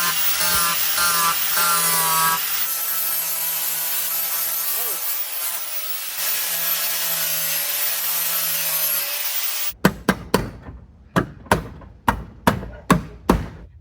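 A power tool cuts into wood, giving a loud, steady buzzing grind for about ten seconds before a run of sharp, evenly spaced knocks follows at close range.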